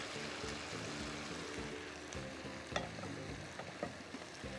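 Karahi stirred in leftover oil with spices sizzles and fries steadily, a continuous close crackle with occasional scraping clinks from the spoon against the pan.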